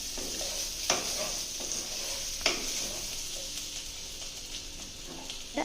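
Chicken for a Kerala-style dry roast fries in coconut oil in a pan, giving a continuous soft sizzle with occasional sharp spits and light stirring scrapes.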